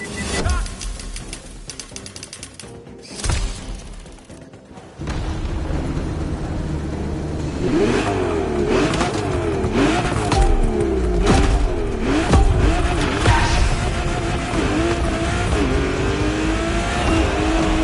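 Racing car engine in the video game The Crew, loud and close, with rising and falling revs as the car accelerates and shifts, preceded by a brief burst of game sound and a voice speaking.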